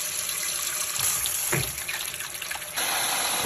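Fresh tomatoes being washed in water with apple cider vinegar, a steady running-tap and sink splash that continues without pause, with a brief stronger gush in the middle; no talking.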